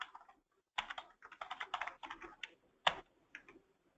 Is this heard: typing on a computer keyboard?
yes